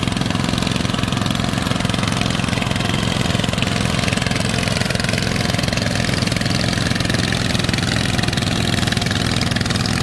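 A two-wheel walking tractor idles along steadily in a paddy field, its engine running at low, unhurried throttle with a continuous close chugging drone and no voices.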